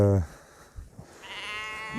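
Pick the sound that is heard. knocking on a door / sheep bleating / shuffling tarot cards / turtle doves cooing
sheep bleating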